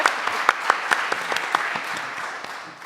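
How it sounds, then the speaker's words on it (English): Audience applause at a faith-based schools conference, a steady patter of many hands with a few sharper claps standing out, moderately loud and close, fading toward the end. "So round of applause."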